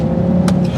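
An Audi TT RS Plus's five-cylinder engine hums steadily up close with a low, throbbing drone and a couple of brief breathy bursts on top.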